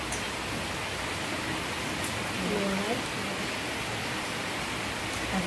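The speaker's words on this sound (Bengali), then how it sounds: "খুব বৃষ্টি হচ্ছে, খুব বাজে আওয়াজ হচ্ছে বৃষ্টি, ভীষণ আওয়াজ হচ্ছে, ভীষণ বৃষ্টি হচ্ছে" Heavy night rain pours down outside a home kitchen while potatoes and pointed gourd are washed for frying, a dense, steady hiss filling the whole stretch with a voice speaking faintly underneath.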